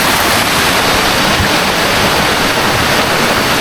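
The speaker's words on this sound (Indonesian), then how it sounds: "aliran sungai." A river stream rushes beside a rocky forest path deep in woodland, a loud, constant, close roar of flowing water filling the whole moment without talk.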